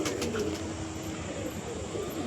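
Andhra Kalsira pigeons at a home loft, with soft low cooing and fluttering beneath steady, fairly loud background noise, no clear voices.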